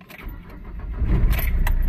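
The diesel engine of a Nissan Note cranks and catches, the noise building into a low, steady running rumble at close range, with a brief metallic jingle early on.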